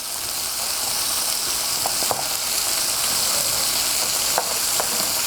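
Sliced garlic dropped into a hot pan for a Mexican beef stir-fry gives a continuous bright sizzle, fairly loud and close, dotted with a few faint clicks and pops.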